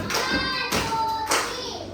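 A class of second-grade students claps three times in unison, giving three distinct, evenly spaced, loud bursts of clapping in a classroom.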